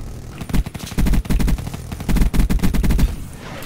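An enemy turret in Call of Duty: Black Ops 3 fires loud rapid bursts of automatic gunfire, close and punchy, in several clustered volleys with brief gaps and no talk over it.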